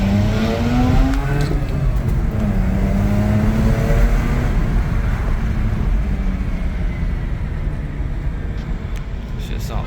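A Mazda RX8's rotary engine winds up toward redline in first gear, a loud rising rev heard up close, with talk alongside it.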